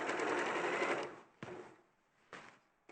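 A sewing machine stitches a seam in a fast, steady run for about a second, then gives a few short, separate bursts, close and moderately quiet.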